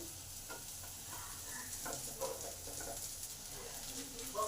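Stuffed gourds fry in a pan, giving a faint, steady sizzle with light crackles and soft stirring ticks, quiet and without speech.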